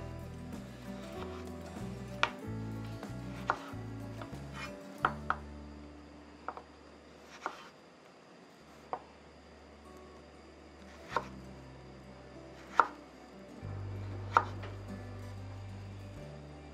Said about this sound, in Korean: 감자는 일정한 모양의 막대기 모양으로 4개를 만들어 주세요.